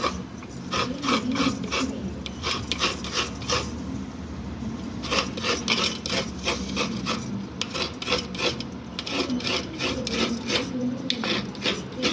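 Fresh coconut grated by hand at home for a drumstick-leaf (murungai keerai) dish, making steady rhythmic rasping scrapes in quick repeated strokes, close and clear, with a short pause midway.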